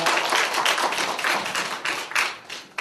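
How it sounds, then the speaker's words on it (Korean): Dense applause from an audience at a Korean talk concert welcomes a guest speaker, loud and continuous, then breaking into uneven bursts near the end. "큰 박수로 받아주세요."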